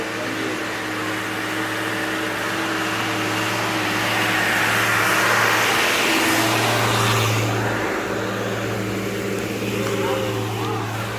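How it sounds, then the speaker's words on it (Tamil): A vehicle engine hums steadily on a hill-country road, swelling louder in the middle as it draws near, then easing back to a constant drone, with no speech over it. "வண்டி வந்துருச்சு."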